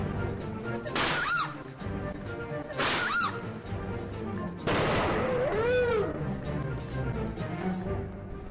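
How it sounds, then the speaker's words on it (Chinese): A sun-heated, half-drunk cola bottle left on a table bursts, heard as a few sharp cracking pops spaced apart and followed by a longer hissing rush, close and loud over background noise. "啱先爆瓶嗰一刻咧，我自己都吓亲啦。"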